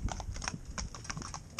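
Hooves of horses pulling a tandem-driven carriage clip-clop in a quick, uneven rhythm of sharp knocks, close and moderately loud over a low rumbling background, with no talking.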